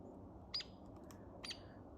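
Red-crested woodpeckers calling outdoors, two short, sharp chirps about a second apart, faint over a low background hum.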